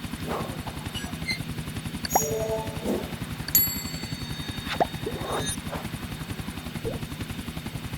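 A helicopter in GTA Vice City flies with a steady, fast rotor chop throughout, joined by occasional game effects such as dings and brief bangs.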